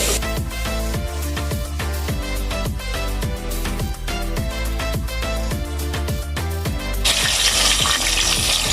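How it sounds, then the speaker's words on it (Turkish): A pot being filled with water for boiling, with a steady, loud gush of running water that goes on throughout and grows brighter and fuller toward the end. "Ben suyu dolduruyorum."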